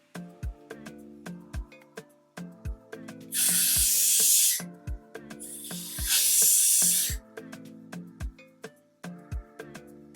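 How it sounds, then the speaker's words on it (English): Two long hissing bursts of hairspray onto a glueless wig, each lasting about a second, sound close up over soft plucked background music. "So I'm just gonna spray across."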